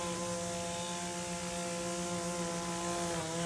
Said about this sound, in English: Sorry about the lawnmower who decided to show up at the neighbor's yard while I'm doing this.